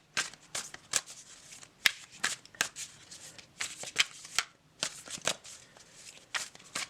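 A tarot card deck being shuffled by hand close up, with a run of quick riffling and flicking bursts in an uneven rhythm, separated by short pauses.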